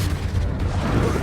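A Confringo blasting spell in Hogwarts Legacy erupts into a loud, sustained booming explosion with heavy low rumble throughout.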